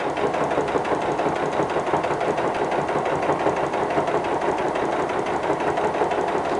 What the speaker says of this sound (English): it's nice to kind of help the sewing machine just a little bit